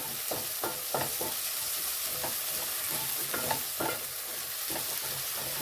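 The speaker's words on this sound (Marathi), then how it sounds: "एक छोटा चमचा आलं लसणाची पेस्ट घालायची आणि ती आपण छान ह्याच्यामध्ये मिक्स करून परतून घ्यायची" Ginger-garlic paste sautéing for paneer matar masala: a steady, close sizzle of frying with repeated spoon strokes scraping and stirring through the pan, no talking.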